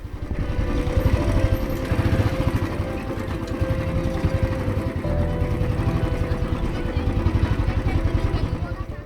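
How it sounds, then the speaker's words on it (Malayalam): A motorcycle engine runs close by with a steady, rapid putter as it is ridden toward a temple, holding an even level throughout. "നമുക്ക് ഇപ്പം തൽക്കാലത്തേക്ക് ബൈക്ക് എടുത്തിട്ട് ആ അമ്പലത്തിന് മുന്നിൽ കൊണ്ട് പാർക്ക് ചെയ്തിട്ട് അങ്ങോട്ട് നടക്കാം"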